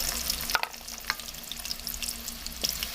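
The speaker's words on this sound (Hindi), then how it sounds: "इसके अंदर डाल देते हैं एक बड़े साइज की प्याज मैंने काट के" A large chopped onion frying in about a cup of oil in a kadhai, giving a soft continuous sizzle and bubble, with a few light stirring clicks close by.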